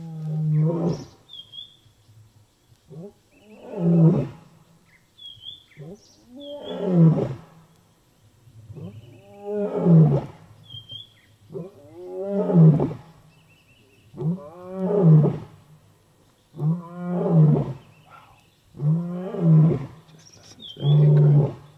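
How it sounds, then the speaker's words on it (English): A male lion roars on a live safari. The call is a loud, echoing series of deep grunting roars that swell and fade in a steady rhythm, with faint birdsong between the bursts. "Male up front starting to roar now."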